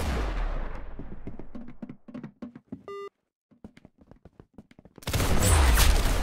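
Gunfire in a video game: a rapid string of sharp shots, a brief electronic beep in the middle, then a heavy, loud burst of fire at the end.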